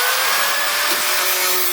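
Steady abrasive cutting through the metal body panel of a Mitsubishi GH Sigma, loud and continuous at close range with no talking.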